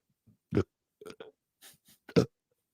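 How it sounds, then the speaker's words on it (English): A person burps several times in a row, short guttural bursts separated by brief pauses, close and fairly loud. "it's like 20 years of burping just comes out of me at once"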